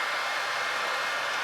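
Hair dryer on the heat setting blowing onto a fluid acrylic Dutch pour painting, a loud, steady, unbroken rushing whoosh filling the whole moment with no voices.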